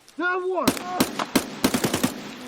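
Rapid bursts of automatic gunfire in the shooter game Escape from Tarkov, a string of sharp close shots in quick uneven clusters after a short rising tone, with no talk over them.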